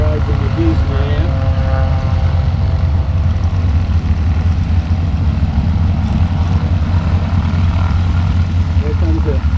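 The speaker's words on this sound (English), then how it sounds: "Here comes the AT-6." An AT-6 propeller warbird passes at a large outdoor airshow, a loud continuous engine and propeller drone that stays steady throughout amid crowd noise.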